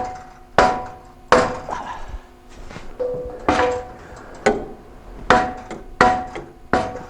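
A truck exhaust pipe on a 1998 Chevrolet 1500 pickup is hammered into place, with about eight loud, close metallic blows at an uneven rhythm, each ringing briefly before the next strike.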